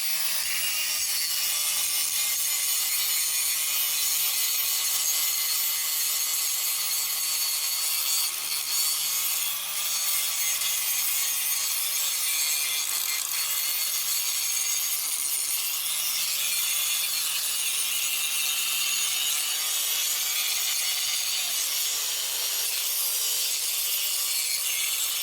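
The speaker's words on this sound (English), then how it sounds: "if I just take the time and do a little grinding" Continuous, loud abrasive grinding on rusty metal of an old trailer, a harsh steady rasp that runs without a break and with no talk.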